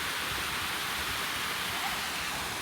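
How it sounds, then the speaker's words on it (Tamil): Floodwater pours through a broken tank embankment in Sri Lanka, producing a dense, unbroken roar that stays loud and even throughout, with no one talking. "செம்மையாக இருக்குது பாருங்க அப்படி தண்ணி ஓடுறது"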